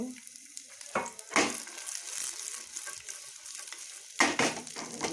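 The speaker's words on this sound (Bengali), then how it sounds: "ঘিয়ের মধ্যে ড্রাই ফ্রুটগুলো দিয়ে দিব" Dry fruits fry in hot ghee in a wok with a soft, steady sizzle. Occasional louder scrapes and stirring clatters rise over it, and no one speaks.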